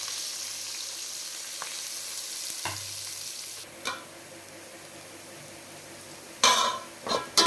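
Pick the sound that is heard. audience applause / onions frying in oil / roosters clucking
onions frying in oil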